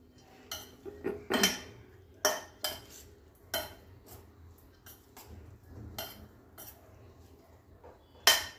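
Metal spoon stirring chili flakes into a bowl, a series of faint, scattered clinks and scrapes at an uneven pace, heard close and alone.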